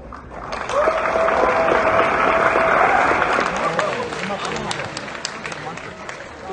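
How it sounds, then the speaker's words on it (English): Audience applause greeting an object brought out onto a stage at a live show, a dense wash of clapping that swells in and holds steady with a tonal whistle-like line and crowd noise mixed through. "So please give a round of applause as we bring out the object to the stage."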